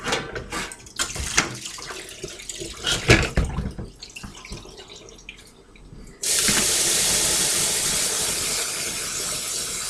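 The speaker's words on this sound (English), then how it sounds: "I have to wash my hands just one more time." Kitchen tap turned on for handwashing while baking chocolate scones: some clattering and handling first, then water suddenly running in a loud, steady, close rush that continues to the end, with no talking.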